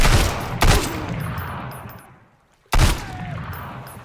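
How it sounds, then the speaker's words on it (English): Gunfire in the survival game Sunkenland: two sharp, loud gun blasts about two seconds apart, each trailing off in a decaying echo, with no talk over them. "He didn't notice the gunfire?"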